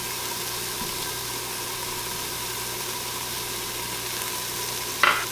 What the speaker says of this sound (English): Now we're just going to saute this until the onions become a little more translucent.